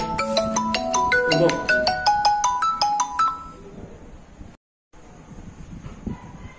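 An incoming call on a phone sounds a repeating melodic ringtone of bright stepped tones for about three seconds, then stops abruptly, leaving quiet room noise and faint voices.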